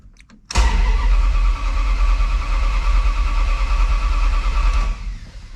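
A Dodge D100 pickup engine is cranked and catches after a short pause. A loud, steady mechanical roar carries on for about four seconds and then drops away.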